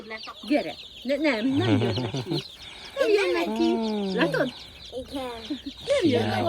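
Farm chicks cheep and cluck in bursts close by, with people talking and laughing around them throughout.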